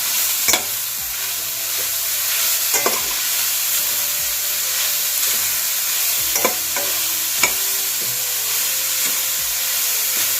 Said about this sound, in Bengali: এখানে আমি এই গাজরটা অল্প অল্প করে দেবো আর নাড়তে থাকবো।